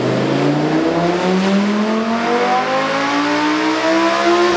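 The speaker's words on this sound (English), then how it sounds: "let's fire it up" A Lamborghini Huracan revs hard on a dyno, its engine note climbing steadily in pitch through the gears, loud, close and unbroken, with no voices over it.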